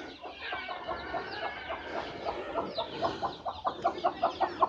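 Brooding hens sitting on eggs in an indoor coop cluck steadily, a dense chorus of overlapping clucks building into louder rhythmic pulses toward the end, close by and with no talk.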